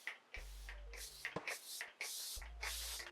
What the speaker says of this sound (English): we're ready to spray the face once again with, you know what I'm gonna spray my face with. NYX Bear With Me.